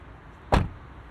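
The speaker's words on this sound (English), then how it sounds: "These door handles here are fully electronic." Electronic front door of a 2021 Ford Mustang Mach-E GT unlatching, a single short, soft click-thunk close by in an otherwise quiet cabin.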